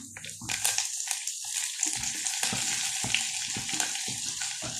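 Ginger, garlic, green chilli and curry leaves sautéing in a pan for a Kerala tapioca dish, a steady hissing sizzle with scattered crackles and stirring scrapes close by, no talk.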